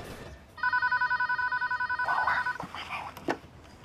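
A telephone rings in a Chinese period family TV drama. A fast electronic trill sounds for about two seconds, then gives way to softer rustling and a brief click.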